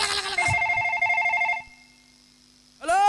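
A telephone rings in a short electronic burst that stops, and after a pause of quiet a new tone starts. It is heard on its own without talk.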